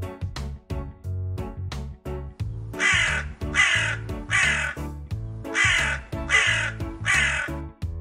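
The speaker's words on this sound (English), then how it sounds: "Crow." A crow caws repeatedly in a steady, insistent rhythm, a dozen or so harsh calls in quick succession, loud and near with nothing else around.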